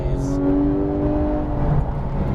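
Sports car engine on a race track, running as a steady, loud drone with harmonic tones that hold level and then lift slightly under light throttle, with no talk over it.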